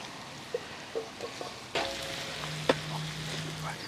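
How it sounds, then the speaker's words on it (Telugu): Ginger, garlic, green chilli and garam masala fry in pure ghee for a dhaba-style mutton curry, a soft continuous sizzle broken by a few spoon clinks and scrapes against the pan. "అల్లం వెల్లుల్లి, ఆ పచ్చిమిర్చి, గరం మసాలాలో ఏదైతే వేగుతున్నాయో దాంట్లో యాడ్ చేద్దాం"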